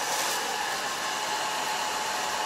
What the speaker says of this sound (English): I got a blow dryer right here.